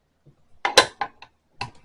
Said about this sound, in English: I'm going to keep screwing this thing down until it gets tight around it